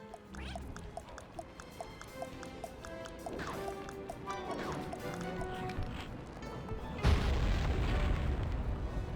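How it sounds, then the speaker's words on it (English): A dynamite blast goes off in Sly 3 beside a ship's anchor in Venice, a loud low boom surging in near the end over busy game music and ambient effects. "Place the dynamite when you get near the anchor, or kaboom!"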